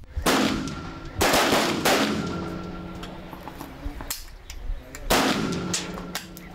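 Several sharp gunshots ring out at intervals during a shooting test at a military-patriotic club competition, each loud crack followed by a short echoing decay, with quieter pops in between.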